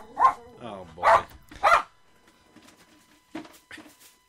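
A dog gives three loud, sharp barks close by in quick succession, then a few softer yips or whimpers follow after a quiet gap.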